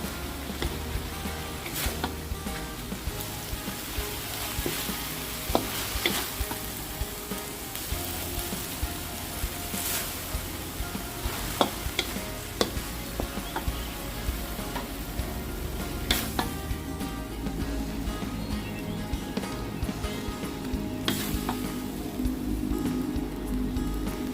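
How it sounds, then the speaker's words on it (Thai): Chicken stir-frying with holy basil leaves in a pan gives a continuous close sizzle, broken by frequent sharp spatula scrapes and clacks against the pan, with no talking. "ใบกะเพราที่เราเตรียมไว้ใส่ให้หมดเลยนะคะ แล้วก็ผัดคลุกเคล้าให้เข้ากันอีกสักครั้งหนึ่งนะคะ"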